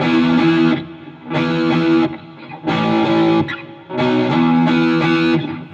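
Distorted electric guitar on the bridge pickup, with a bright, biting tone, strums sustained chords in bursts separated by short pauses, loud and alone.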